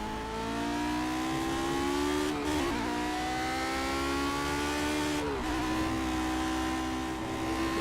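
Lotus 49 race car in Project Cars, a loud, high-revving engine wail climbing steadily through the gears, with brief dips at two gear shifts, continuous and close.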